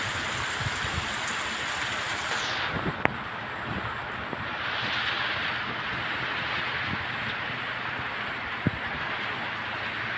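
Heavy monsoon-style downpour drums steadily for the whole stretch, a dense continuous hiss of rain on surfaces with a few sharp drip or tap accents, no voices.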